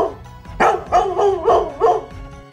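A cartoonish dog barks in the Undertale video game, a Halloween hack set in Forget-Me-Not Village: five or six distinct, evenly spaced yips in quick succession, loud and close, with no talking.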